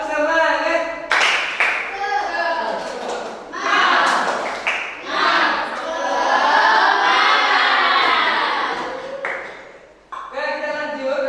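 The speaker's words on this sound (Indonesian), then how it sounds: "Tepuk semangat." Classroom of students performing a rhythmic spirit clap, bursts of sharp unison claps in patterned rhythm alternating with group chanting and shouting, loud and close.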